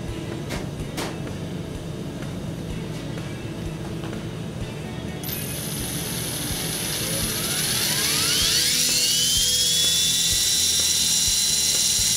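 A Trex 450 RC helicopter, just repaired after a servo failure, spools up its rotor as a high whine that climbs steadily in pitch and grows louder over a constant motor hum.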